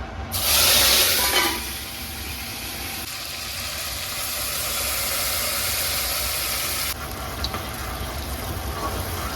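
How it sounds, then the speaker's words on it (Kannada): Ground masala paste for chicken sukka hits hot oil with a sharp, loud burst of sizzling, then settles into a steady, strong hissing fry nearby. "ಇವಾಗ ಎಣ್ಣೆ ಕೂಡ ಕಾದಿದೆ ಇವಾಗ ಇದ್ರೊಳಗಡೆ ನಾನು ಮಿಕ್ಸಿಗೆ ಹಾಕೊಂಡಿದ್ದಲ್ಲ ಆ ಪೇಸ್ಟ್ನ ಹಾಕೊಳ್ತಾ ಇದ್ದೀನಿ"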